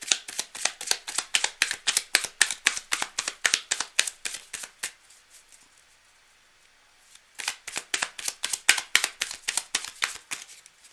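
Playing cards are riffled and shuffled in rapid, evenly spaced crisp snaps, a long run that pauses for about two seconds and then starts again, close and clear with no talking.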